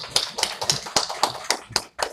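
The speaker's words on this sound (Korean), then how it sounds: "우리 박수로 환영하겠습니다." A church congregation claps to welcome a visitor to a worship service, sounding as eight or nine sharp, evenly spaced claps in a steady rhythm, fairly close and clear.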